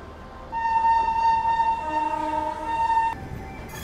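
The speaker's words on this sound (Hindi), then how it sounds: "जो ट्रेन आप देख रहे हो वहाँ पे ना, उसकी लाइट आपको दिख रही है, वो बांद्रा गरीब रथ है।" Bandra Garib Rath passenger train sounds a long, loud steady horn for about two and a half seconds over the rumble of rail traffic, then the horn cuts off abruptly.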